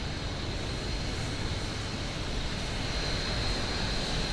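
An airplane passes near the Las Vegas airport ramp, a constant loud broadband jet roar with a faint high whine that stays steady throughout, with no talking.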